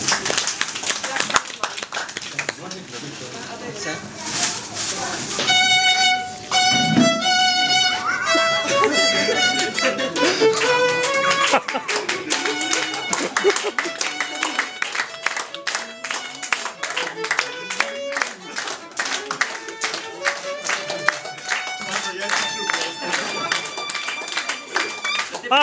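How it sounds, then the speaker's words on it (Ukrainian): Audience applause at a gathering in Volyn where patrons provided a New Year's table for soldiers, clapping rising and falling alongside music with bright tonal notes over roughly twenty-five seconds. "Аплодисменти!"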